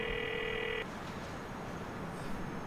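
An in-game phone ringing after a number is dialed in Grand Theft Auto 4, a steady electronic ring tone that stops abruptly, leaving quiet background hiss.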